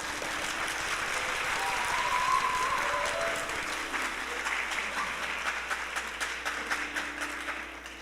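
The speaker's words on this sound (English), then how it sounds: "start off the show with a big round of applause, honoring the glorious artists amidst us." A crowd at a Bharatanatyam arangetram dance performance applauds the musicians in a full, continuous wave of clapping that swells and then gradually thins out.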